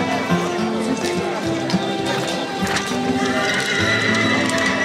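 Large draft horses at a horse beauty contest in Osorhei, Bihor, with hooves clip-clopping at a walk and trot and repeated whinnies, while people talk and call out in the background.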